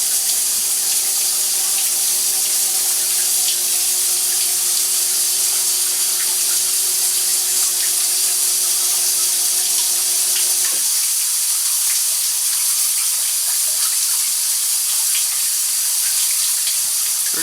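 A leaking frozen pipe at eleven below zero sprays water up onto a ceiling, making a steady, loud hiss that runs throughout. A low hum underneath cuts out partway through.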